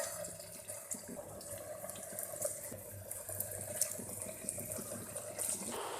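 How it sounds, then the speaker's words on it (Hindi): Potato spring rolls fry in hot cooking oil in a pan, giving a soft, steady hiss that runs evenly at low volume with faint crackles scattered through it. "ऑयल गर्म हो चुका है, इसमें हम रोल डाल देंगे।"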